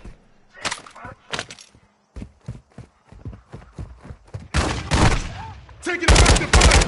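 Video game gunfire in the DMZ mode of Call of Duty: sharp shots, some single and some in bursts, building to dense, loud, near volleys with no talk.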